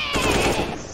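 Gunfire in a video game as a rapid, continuous burst lasting about a second, loud and up front, with a faint voice underneath.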